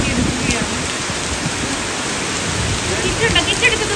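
Heavy night rain pours steadily during a thundery downpour while mangoes are gathered outdoors, a dense, even hiss of drops on surfaces, close and constant without pause.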